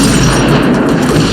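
A movie gunfight between federal agents and criminals, heard as a dense, loud, continuous barrage of booming blasts and gunfire with no pause.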